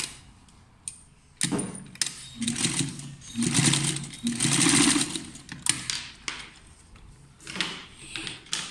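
Sewing machine stitching a seam on a blouse, running in several bursts of steady motor whir with pauses and small clicks between runs, close and fairly loud.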